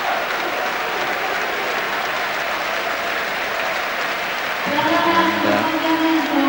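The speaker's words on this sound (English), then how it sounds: "And he's applauded by the man about to replace him and by most in the ground." Applause from a football stadium crowd rolls on steadily as a player is substituted in a 1999 UEFA Super Cup match between Lazio and Manchester United, with a commentator's voice joining over it toward the end.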